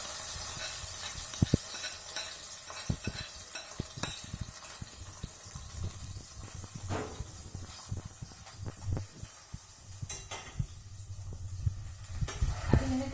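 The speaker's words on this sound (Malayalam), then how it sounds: "നെയ്യിലെ മത്തൻ കുറച്ച് വഴറ്റുക, തീ അധികം പാടില്ല." Pumpkin sautés in ghee over low heat, giving a soft continuous sizzle and hiss broken by scraping stirs and light clicks of the spoon against the pan, close by and fairly quiet.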